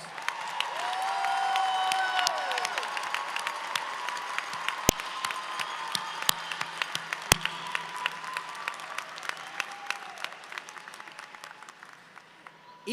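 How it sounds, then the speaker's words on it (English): Sustained audience applause at a university social work graduation convocation ceremony, many hands clapping steadily for over twelve seconds in a large hall, with a few louder sharp claps and slight cheering, gradually thinning toward the end. "let's give them all a round of applause"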